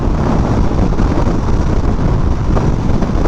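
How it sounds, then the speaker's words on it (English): Steady, loud wind roar buffets a rider on an Aprilia RSV4 Factory motorcycle cruising at speed, a constant broadband rush filling the whole stretch with no breaks and no voices. "the wind is throwing me around"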